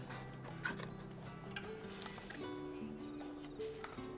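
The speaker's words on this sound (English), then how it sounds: "I love that we can pet the dog." A dog in Final Fantasy XVI whimpers and whines in high, wavering tones over a quiet game background, several short soft cries close by, with a little voice murmur.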